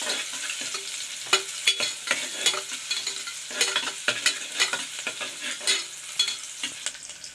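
Thinly sliced onion sautéing in a pan for tomato pulao: a soft, steady sizzle broken by frequent, rhythmic scrapes and clicks of stirring, close and fairly quiet, with no talking.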